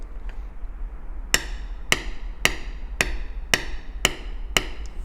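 A metal beveling tool struck by a mallet, walked along the tooled edge of a leather wristband: seven crisp, evenly spaced taps about half a second apart, close and alone over a faint steady hum.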